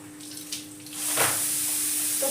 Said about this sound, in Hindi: तो फटाफट से धो लेती मैं इनका